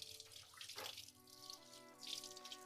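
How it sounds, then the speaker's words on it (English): Tap water runs into a kitchen sink as hands are washed while preparing a roast chicken, a steady faint splashing stream with slight shifts in flow, no voices. "I'll just wash my hands."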